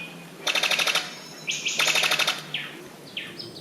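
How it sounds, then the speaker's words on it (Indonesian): Birds call in Papua, home to birds of paradise: loud, close bursts of rapid, rattling chirps in two long trills, followed by several shorter sharp whistled notes, with no voices. "Over 600 species of birds are found in Papua, including the birds of paradise"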